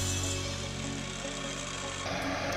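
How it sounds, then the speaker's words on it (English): A length of metal bar is cut for a wheel-mounting plate on a track-driven trike, giving a steady, loud, continuous grinding rasp throughout with no voices. "Cutting a length from some bar"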